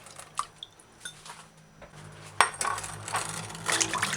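Ginger root getting a final rinse in fresh water, with scattered drips, small splashes and light clinks of the root against a bowl, then a louder wash of running, splashing water in the second half. No talking.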